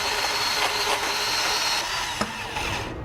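DeWalt 20V Max DCS371 compact cordless band saw cutting through 2-inch rigid steel conduit, a steady close whine and grinding hiss running throughout with faint clicks, without speech.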